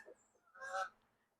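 A few honking Canada goose calls pass overhead, a short burst rising and fading against a quiet outdoor background.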